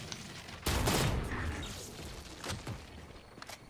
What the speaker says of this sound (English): Oh, the shotgun sniper rifle.